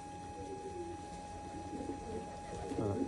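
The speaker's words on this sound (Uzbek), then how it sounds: "Kabutarlar" Pigeons coo softly in a loft over a steady electrical hum, the gurgling calls growing a little louder toward the end, with faint voices in the background.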